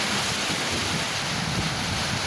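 Wind blows across a farm garden lined with old trees, a steady rushing roar with rough buffeting against the microphone that continues throughout, with no one speaking.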